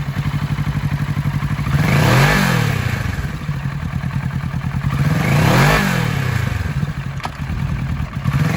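A used 2021 Kawasaki Ninja 650 sport twin revving twice, each blip swelling from a lumpy idle and falling back, with clattery idle between the revs, close and loud, no speech.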